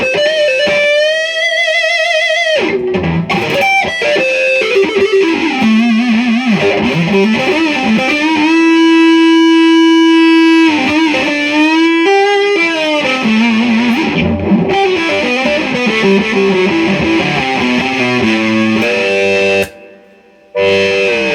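Electric guitar, a 1955 Gibson Les Paul with P90 pickups, is played loud and close through a distorted, effects-laden tone, with sustained melodic lines and bends running almost continuously before a brief cutoff near the end.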